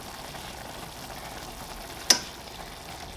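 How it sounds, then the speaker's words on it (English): Loose ground meat with onions and beef stock simmers in a pan with a soft, steady sizzle and bubbling close by, and a single sharp clink cuts in near the end. "Now we're just going to stir it up and let it bubble for a few minutes, let the onions continue to cook"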